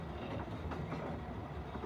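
A train rolls steadily along the rails with a continuous rumbling clickety-clack, fairly close and alone, without any talk.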